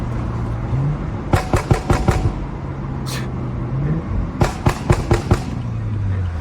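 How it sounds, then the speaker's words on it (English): Exhaust of a Stage 2+ BMW F30 335i popping and banging on downshifts during a late-night drive: two loud bursts of rapid, sharp crackles over a steady engine drone. "give you guys some pops on the downshift"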